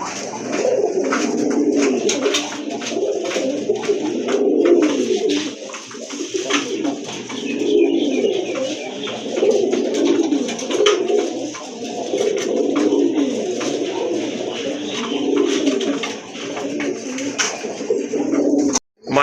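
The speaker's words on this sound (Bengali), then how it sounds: "এক জোড়া কবুতর দেখতে পাচ্ছেন এখানে" A pair of domestic pigeons, one a light-coloured male, coo continuously up close, with rolling, throaty calls rising and falling in repeated waves and no talking.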